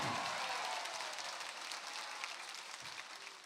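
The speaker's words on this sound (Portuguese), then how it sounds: "Salva de palmas para o Padre Devaldo." Audience applause for Padre Devaldo at a music show at the Bom Jesus da Lapa sanctuary: steady, dense clapping from a crowd that holds for several seconds and slowly fades.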